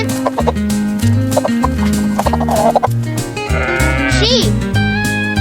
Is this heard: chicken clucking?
yes